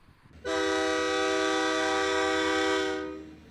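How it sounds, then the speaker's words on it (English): A train horn sounds in the small old mining town of Kirby, Wyoming, one long loud steady blast that fades gradually as it ends, over a low rumble. "Most days, a train coming through town was the highlight of the day"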